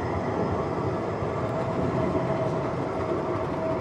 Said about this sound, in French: Le tram passe par là.